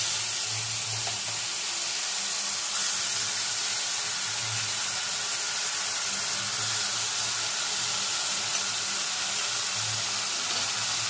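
Onion and garlic paste goes into hot oil scented with curry leaves, giving a continuous loud sizzle and steamy hiss with faint low stirring bumps underneath.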